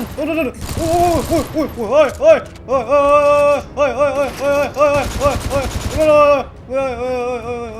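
Enemy gunfire in the zombie shooter game Mission Evo, with short bursts of rapid shots breaking through over loud, excited shouting and talk that runs through the whole stretch.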